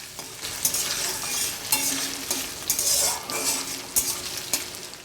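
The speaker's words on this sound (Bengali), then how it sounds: "আর দিচ্ছি 1 চামচের মতো 5 ফোড়ন আর আদা যেটা থিতিয়ে রেখেছিলাম সেটাও দিয়ে দিলাম তেলের মধ্যে।" Panch phoron and ginger fry in oil for a mixed vegetable dish, a loud close sizzle broken by repeated rhythmic stirring scrapes of a spoon against the pan.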